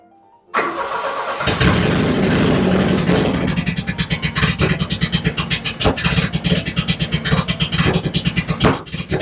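A Volvo 240 with a D24T turbodiesel engine cranks briefly and starts, then runs roughly with a loud, close, uneven pulsing idle, suggesting possible timing trouble.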